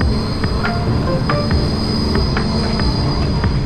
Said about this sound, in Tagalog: Ang galing ng trams, oh.